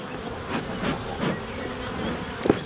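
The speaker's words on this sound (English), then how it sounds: "There's a lot of bees in this hive." Honeybees in an open hive give a faint, steady buzzing drone with a few soft knocks and a brief louder tap near the end, with no talking.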